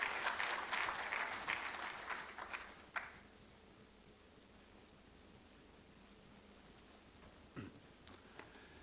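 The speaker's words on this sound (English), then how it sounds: "Please, a round of applause as he comes." An audience applauds Professor Kevin Marsh at the opening ceremony of a 10th anniversary research conference. Dense, loud clapping fills the first three seconds, then fades into a quiet hall with a couple of faint knocks.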